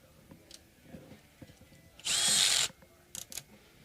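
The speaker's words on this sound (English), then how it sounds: "Time to use the power tool." A cordless power drill at its lowest torque setting whirs in one short, loud burst of about half a second during a guitar headstock repair, surrounded by quiet handling clicks and taps.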